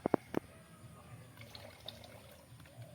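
Water poured into a container during a home experiment, with a few sharp splashing drips at the start followed by a faint, quiet trickle.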